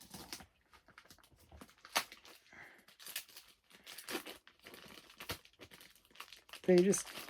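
Tape is pulled and torn off a heavily taped parcel during unboxing, with intermittent crinkling, ripping and rustling bursts, a louder tear near the end, and quiet speech between.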